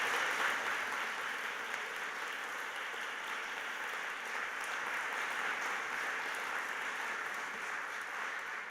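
Audience at a university awards ceremony giving a sustained round of applause, an even, dense clapping that holds steady throughout without talk over it, moderately distant and quiet.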